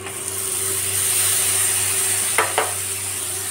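Onions browned in oil sizzle and fry in a pan as Kashmiri chilli powder, turmeric and garlic paste go in, giving a loud, steady hiss close by with two short scraping stirs near the end.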